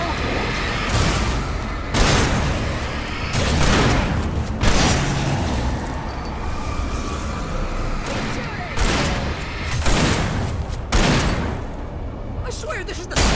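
Video game gunfire during a frantic defensive fight, dense bursts of shots and booming blasts rolling on continuously at close range, with shouted talk mixed in throughout.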